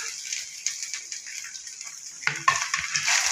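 Grated coconut stirred with dried red chillies in a frying pan for carrot thuvaiyal: soft scraping and light sizzling, with a sharper clatter of spoon against pan near the end.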